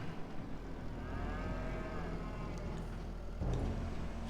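Cows on a farm in a farming simulation game moo in a long, drawn-out low call, steady and fairly close over a constant ambient background, with a brief bump of noise near the end.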